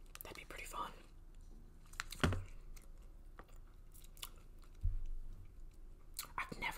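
Close, quiet chewing and crunching of Chipotle food in an ASMR mukbang, with soft mouth sounds and a few sharper bites, under intermittent whispered talk.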